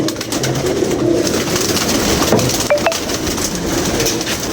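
Pigeons coo in a loft, soft repeated throaty calls under steady background noise with a faint rail-like rumble.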